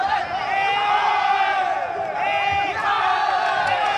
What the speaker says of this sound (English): the crowd really getting behind these two fighters